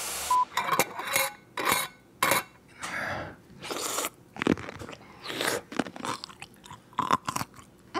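Loud, close crunching and chewing on pickles, with irregular wet bites coming in quick bursts, alone without speech.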